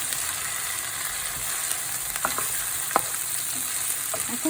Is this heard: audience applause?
no